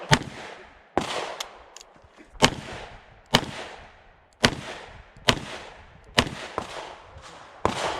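Gunshots from a Taurus Raging Hunter .454 Casull revolver at an IDPA shooting match: eight sharp, loud reports spaced roughly a second apart, each with a decaying echo, no talking.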